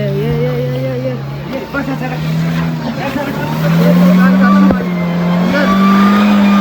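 A car stuck in heavy snow in Manali revs its engine hard, a loud, steady, close roar that rises and falls in pitch, with people talking over it.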